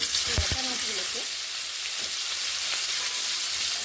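Steady, loud sizzling of snakehead fish frying in hot oil, a continuous crackling hiss with a couple of sharp clatters near the start.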